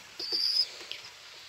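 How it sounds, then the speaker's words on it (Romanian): A thin, high squeak from a pigeon chick, brief and faint, followed by a softer chirp against quiet background hiss. "Iar se aude un chițăit. Tot același puiuț."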